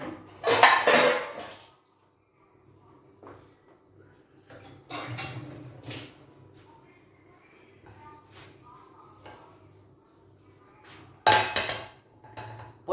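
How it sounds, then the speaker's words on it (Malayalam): Metal vessels clatter and clank in a home kitchen while making banana kumpilappam, several sharp bursts of pots being set down and moved, separated by quieter handling, with someone talking in between. "എന്നിട്ട് വേറൊരു പാത്രം എടുത്ത് വയ്ക്കാം."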